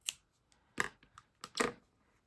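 Scissors cut yarn while finishing a crocheted Valentine teddy bear with a stuffed heart, giving a few crisp close snips with short gaps between them.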